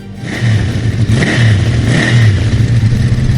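A Benelli Sei inline-six motorcycle engine revs loudly and steadily close by, its pitch rising and falling in smooth repeated surges with no voices.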